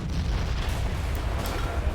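Artillery guns fire in the World War I video game Battle of Empires 1914-1918, heard as low, rumbling booms that blend into a continuous, muffled battlefield roar.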